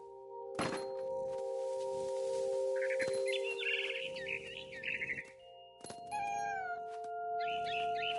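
A cat in the video game What Remains of Edith Finch meows a few times in short, close cries, with bird-like chirps and a steady tonal game backdrop around them.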